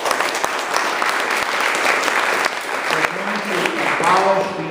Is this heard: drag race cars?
no